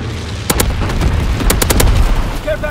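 Incendiary firebombing run from a low-altitude bomber in Call of Duty: WWII, with loud sharp bursts and rumbling blasts in quick clusters over a dense, roaring battlefield din.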